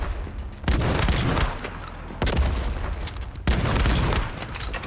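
Shotgun blasts in the game Once Human: three loud, heavy booms spaced over about five seconds, each followed by a sustained rumbling tail.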